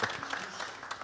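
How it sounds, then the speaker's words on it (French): Studio audience applause on a television entertainment show, a short stretch of steady clapping with faint voices mixed in. "Merci de faire bien plus d'applaudissements pour M."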